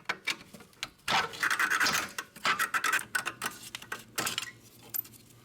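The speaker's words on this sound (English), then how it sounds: "Alright, so I'm gonna remove this caliper spring." A brake caliper spring being removed from the rear brakes of a Mercedes E350, with faint metallic scrapes, ticks and light clinks close by.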